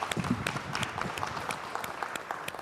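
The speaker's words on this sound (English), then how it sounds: "I think we should clap really to these people who are on the ground all the time" Audience applauding at a World Humanitarian Day 2020 celebration event, a fairly faint, steady patter of many hands clapping from across a room, with no talk over it.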